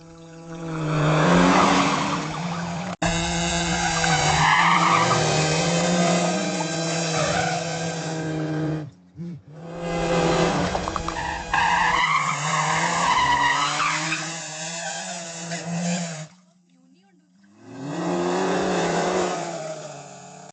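A car skids and revs hard during a chase, with tires squealing and the engine roaring almost continuously, loud and close, broken by a few brief pauses.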